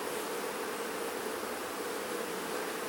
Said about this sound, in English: Wow, lots of bees.